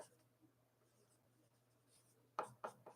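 Pen on a greeting card while a birthday message is written, faint soft scratching for most of the moment, then two louder brisk strokes near the end.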